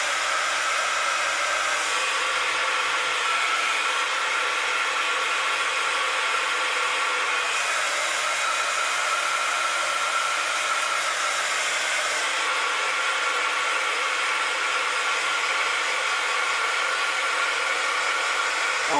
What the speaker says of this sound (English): So I'm just going to give this a blast with the heat gun.